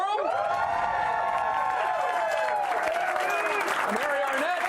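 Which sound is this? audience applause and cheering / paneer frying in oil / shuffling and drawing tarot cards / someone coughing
audience applause and cheering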